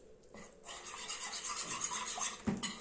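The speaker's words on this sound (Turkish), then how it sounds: "İyice sulana kadar, bütün nişasta içinde eriyene kadar karıştırıyoruz." Cornstarch is stirred into water for a hazelnut rice pudding, a spoon rubbing and scraping close against the bowl in a brief, soft, continuous swirl with no voices.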